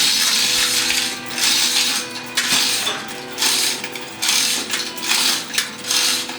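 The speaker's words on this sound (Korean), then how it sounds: "유압기를 어느 정도 위치가 잡히고 나면 위압체과 체인블록을 사용해 안쪽으로 더 넣어주고" A chain block and hydraulic jack easing a steel H-beam into place during a building remodel, giving loud rattling chain clatter and ratcheting mechanical clicks in repeated bursts over a steady hum, with no voices.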